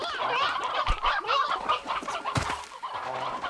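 Chickens in the Slime Rancher video game cluck repeatedly in short, uneven bursts, several birds close by and fairly loud, with no talk over them.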